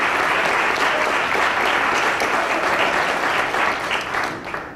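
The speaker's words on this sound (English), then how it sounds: "can we give Brian a round of applause?" A community event audience in Fort Wayne gives a presenter a round of applause, loud sustained clapping from many hands that tapers off in the last second.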